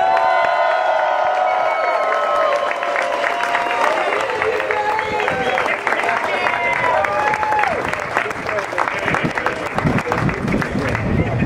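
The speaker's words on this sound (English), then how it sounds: "Can we please have a big round of applause for organizer Greg Casson?" Outdoor crowd after an equality march applauds an event organizer, with loud sustained clapping, cheers and whoops, and voices shouting over the ovation throughout.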